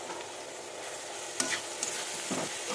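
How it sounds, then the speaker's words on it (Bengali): A spoon stirs cauliflower-stem chorchori with sugar and salt in a pan, scraping and clinking against the metal over a soft, steady sizzle of oil, with a few sharper knocks. "দিয়ে এটাকে সুন্দর করে নাড়াচাড়া করে নেব"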